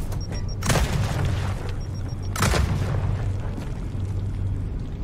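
Two heavy grenade blasts from a Gears of War 4 match boom out a couple of seconds apart, each a loud broadband burst fading into rumble over a steady low game hum.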